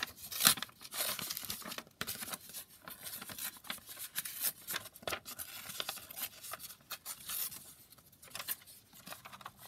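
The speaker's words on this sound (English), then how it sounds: "let me just tear these down." Paper tearing by hand for a handmade junk journal, a run of crisp rips and crinkles in close succession, close and fairly quiet, with no talking.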